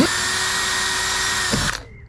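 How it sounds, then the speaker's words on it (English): A power drill bores a small pilot hole while fitting a part to a Mazda MX-5 NC, its motor whining steadily and close for under two seconds before cutting off abruptly. "I'm going to now drill a small pilot hole"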